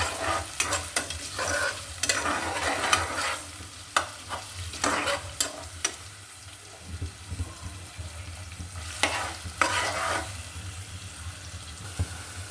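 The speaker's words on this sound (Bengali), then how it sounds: "বেশ কিছু পেঁয়াজ আলুটা এখন ভালো করে ভেজে নেব" Onions and potatoes frying with crushed garlic for bhuna khichuri, a low sizzle under repeated scraping and clattering stirs of a spatula in the pan, close by and without talk.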